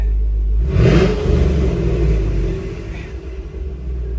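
A Chevy SS sedan with a one-piece exhaust revs up close by, a deep rumbling blip that swells sharply and then settles back into a low, throaty idle.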